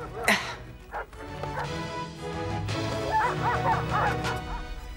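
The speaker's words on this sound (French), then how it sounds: "J'entends les chiens." Several dogs bark and yip in quick bursts, fairly close, with a busy rustling background throughout.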